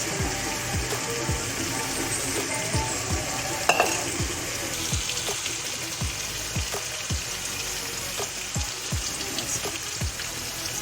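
Chicken tikka masala sizzles and fries in a pan with added water while a spoon stirs it, giving steady hissing with repeated soft scraping strokes throughout.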